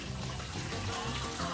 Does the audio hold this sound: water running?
yes